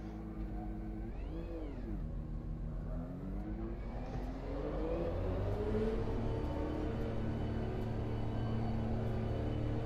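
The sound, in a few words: Porsche 911 RSR GTE engine in rFactor 2 video game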